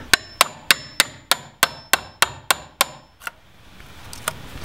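Hammer striking a chisel while cutting a compost toilet door for a tiny house: eleven sharp, evenly spaced metallic blows in quick succession, then a pause and a couple of lighter taps.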